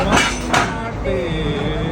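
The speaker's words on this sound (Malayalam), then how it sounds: "ഒരു സാധാ ട്രെയിനിൻ്റെ എൻജിൻ വന്നിട്ട് ട്രെയിനിൽ ഇങ്ങനെ ജോയിൻ ചെയ്യാൻ പോവാണ്" A regular train engine couples onto a double-decker passenger train in Russia, giving two sharp metallic clanks close by, then a drawn-out squealing screech of wheels and couplers.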